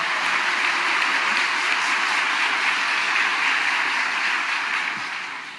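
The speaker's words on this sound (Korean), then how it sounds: "목자님께도 감사의 박수 드렸으면 좋겠습니다" Sustained applause of thanks from a church congregation at a Wednesday worship service, a steady dense wash of clapping that fills the whole stretch and starts to taper off at the very end.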